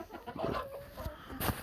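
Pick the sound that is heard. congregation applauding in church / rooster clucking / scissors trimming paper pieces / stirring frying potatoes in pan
rooster clucking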